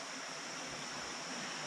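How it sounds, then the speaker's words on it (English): Clear Creek rushes beneath a railroad bridge, a steady, even wash of flowing water heard from above, faint and continuous with no voices. "that's Clear Creek running underneath us again."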